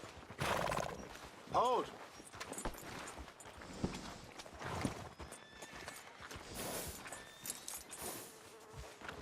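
A horse in the Red Dead Redemption 2 video game gives a short neigh near the start, with hoof clops and tack sounds scattered through a quiet outdoor scene and brief speech.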